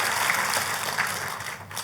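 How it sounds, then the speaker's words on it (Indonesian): A church congregation applauds during a sermon, giving a steady wash of clapping from many hands. It is moderately loud and fills the room, with little speech over it. "Kita kasih tepuk tangannya yang paling meriah buat Tuhan kita."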